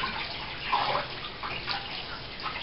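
Steady rush of water flowing from a home garden hose, a continuous close splashing hiss with slight surges, no talk.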